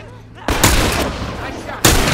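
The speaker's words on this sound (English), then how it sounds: "Make every shot count now." Gunfire in The Last of Us Remastered, two loud sharp shots about a second apart, each with a lingering echoing tail over a low background.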